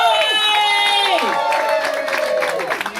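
Cabaret crowd noise: a loud, continuous wave of shouting and cheering voices, with rising and falling whoops and some clapping mixed in.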